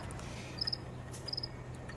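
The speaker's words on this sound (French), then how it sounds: "J'aime les grillons. J'en ai toujours. J'adore ce son." Two short bursts of high-pitched cricket chirps, each a quick trill of three pulses, over a steady low background hum.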